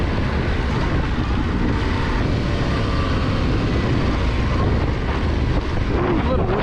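Yamaha Tenere 700 motorcycle ploughing through deep sand in third gear in the Mojave desert, a steady loud engine drone mixed with heavy wind rumble across the microphone the whole time, with no speech.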